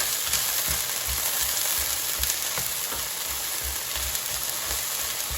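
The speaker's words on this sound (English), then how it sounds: "when the oil is heated and everything is sizzling" Okra sizzles steadily in hot oil, a constant crackling hiss with occasional soft stirring scrapes, close and fairly loud.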